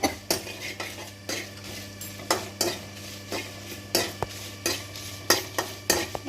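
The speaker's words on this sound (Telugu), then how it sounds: "వీటిని కూడా లైట్గా ఫ్రై చేసుకోవాలి." Flax seeds dry-roasting lightly in a pan for a spicy seed powder, with a spoon scraping and clinking against the metal pan in repeated sharp strokes over a low steady hum, no voices.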